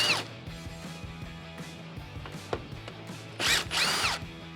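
Cordless power drill spins out 10mm bolts at the top of the grille on a Toyota Tacoma, a close whirring motor with short rising and falling bursts, loudest near the end, and no talking.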